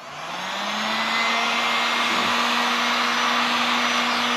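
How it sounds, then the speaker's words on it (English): A heat gun blows hot air to shrink wrap around a pen for sublimation, a steady loud whooshing roar with a low motor hum that ramps up in the first second and then holds constant, alone without talk. "Then I'm going to heat it with a shrink wrap or a heat gun."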